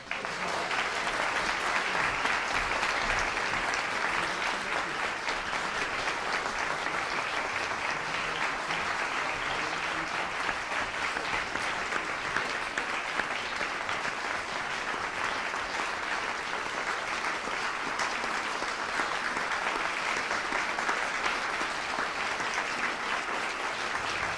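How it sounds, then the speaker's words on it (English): Sustained audience applause at a young chamber musicians competition as winners are announced, a dense steady wash of many hands clapping for over twenty seconds with no talk over it. "let's have one more round of applause for all of tonight's performers"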